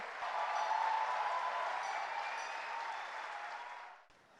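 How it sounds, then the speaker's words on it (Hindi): Loud, sustained applause from a large audience at a literary festival welcoming speakers onto the stage, dense continuous clapping that fades out near the end. "आपकी जोरदार तालियों के बीच जावेद अख्तर साहब और सैफ महमूद साहब को।"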